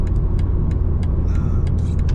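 A BMW M3 drives nearby with a loud, steady low engine rumble and road roar, broken by faint repeated clicking.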